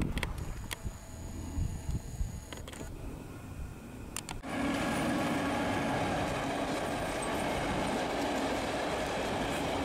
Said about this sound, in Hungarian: A településen halad át a Budapest-Szeged vasútvonal is.